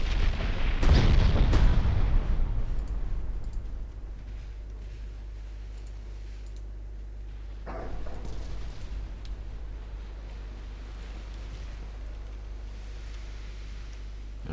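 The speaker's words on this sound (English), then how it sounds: "I did score 2 torpedo hits" Torpedo hits exploding on warships in the naval game Ultimate Admiral Dreadnoughts, a heavy booming blast near the start and a second, weaker rumble later, over a steady low engine drone.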